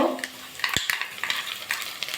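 Onion frying lightly in a pan gives a soft sizzle, broken by quick spatula scrapes and small clinks against the metal.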